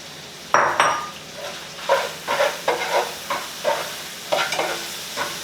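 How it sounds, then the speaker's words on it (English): A spoon stirs sauce into browned ground beef in a pan for a keto hamburger dish, giving a run of scraping, sizzling strokes with a few light clinks, close and moderately loud with no talking. "I'm going to go ahead and put this in with the meat that's browned up and just kind of mix it in there for a second."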